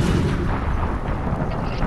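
Tank turret firing in the Fortnite video game, a dense, continuous low rumble of gunfire and blasts that stays loud and steady throughout, with no voices over it.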